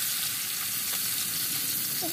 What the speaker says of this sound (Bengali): মাছগুলো কম তেল দিয়েই ভাজা হচ্ছে